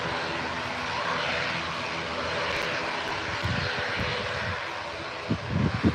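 An Aer Lingus ATR turboprop departs for Dublin, its propellers and engines producing a strong, continuous roar that holds steady near the runway, with some low buffeting thumps toward the end.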